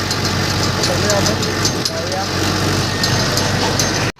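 A dirty tractor engine runs in a steady, loud, continuous drone that cuts off abruptly at the end.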